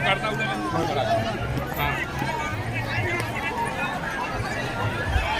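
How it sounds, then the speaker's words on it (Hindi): A large crowd gathers outside a rally pandal, a steady babble of many voices and chatter with someone speaking over it. "आप देख सकते हैं ये सिर्फ पंडाल के बाहर की भीड़ है।"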